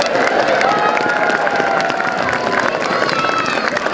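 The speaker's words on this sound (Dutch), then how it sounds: "En ik wil graag dat de kinderen dit met een heel hard applaus ondersteunen." Children clapping and cheering loudly at the Sinterklaas arrival in a Dutch village, a thick, continuous crowd roar of applause with excited voices mixed in throughout.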